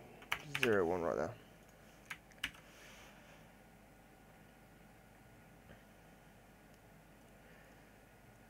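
A short burst of typing on a computer keyboard while entering a level name in a Unity3D game project, a quick cluster of close clicks followed by a few isolated taps, with soft speech nearby.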